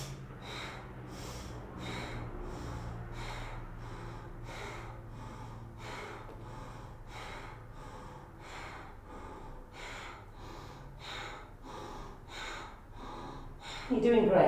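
Rhythmic forceful breaths during a kundalini yoga kriya, about a dozen evenly spaced sharp inhale-exhale bursts, close and moderately loud, with an instructor talking over them.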